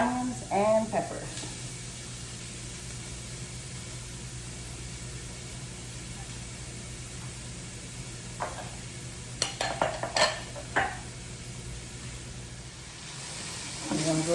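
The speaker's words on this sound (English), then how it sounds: "y'all hear that sizzle? That means it was hot enough." Onions and peppers sauté in a hot pan for a Philly beef filling, giving a steady, close sizzle that runs throughout, with someone talking over it at the start and again near the end.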